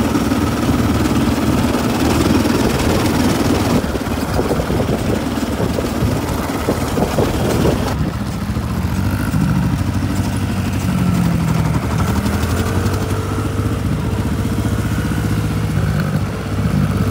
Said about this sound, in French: La petite moto.